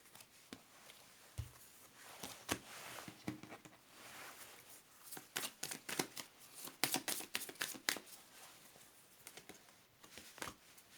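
A deck of tarot cards is shuffled and handled up close, producing a continuous rustling patter with sharper flicks and riffles building toward the middle.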